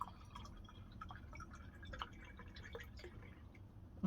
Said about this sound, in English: that's poured a little bit more like a red wine